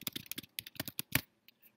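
Quick bursts of typing on a computer keyboard, close and soft, with irregular clusters of key clicks, brief pauses between them, and a few isolated taps at the end.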